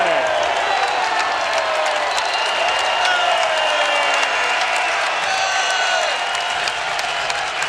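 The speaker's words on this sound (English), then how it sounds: "the crowd responding to the effort from Oregon State on their home floor" Home basketball crowd at an Oregon State game cheering and applauding in an indoor arena, a loud, dense, sustained roar with whoops and clapping that stays steady throughout.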